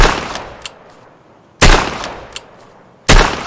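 Chiappa Rhino .357 Magnum revolver fired in the video game Escape From Tarkov: three loud, sharp shots about one and a half seconds apart, each trailing off in a short echoing decay, with no talk.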